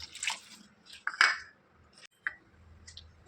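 Water added to a pot of cooking wheat semolina (godhumai rava) for a coconut snack: close splashes and drippy sloshes come in short bursts with quiet gaps between, and no one speaks.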